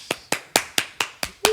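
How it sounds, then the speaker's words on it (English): Seven sharp, evenly spaced claps from one pair of hands, close and moderately loud, a lone steady rhythm of about four per second with a brief faint tone at the end. "People can clap after the episode."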